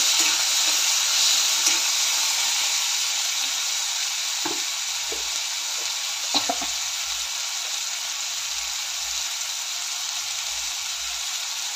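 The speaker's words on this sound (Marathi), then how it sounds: "हे सर्व चांगलं परतून घेऊया" Onion and tomato with salt sauté in a pan, giving a continuous hissing sizzle with a few faint utensil taps and scrapes, steady and close with no talking.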